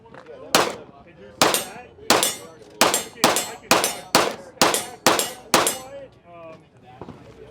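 Nine or so loud, sharp pistol shots fired one after another at a steady pace, 9mm and 30 Super Carry handguns at a SHOT Show range, each crack followed by a short ringing decay, up close.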